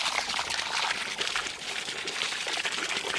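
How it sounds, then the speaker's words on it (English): Water pours from a hose into an irrigation ditch on a Thai property, a steady, close splashing rush without pause. "we can put water in it with a hose like this"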